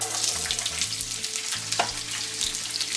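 Sliced onions hit a hot pan for fajitas and sizzle loudly and evenly, a dense close frying hiss that holds steady throughout, with no voices.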